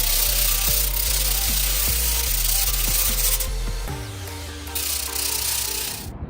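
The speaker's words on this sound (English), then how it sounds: "Become one with the sanding device." A power sander grinds continuously with a dense rasping hiss over a low motor hum and a faint periodic knock. Its tone drops and shifts about two-thirds through, then runs on steadily.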